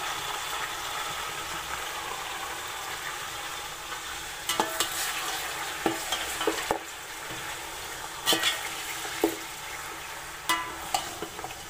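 Mutton pieces frying in a pot with browned onions, a steady loud sizzle running throughout, with scraping clinks of a spoon stirring at intervals in the second half.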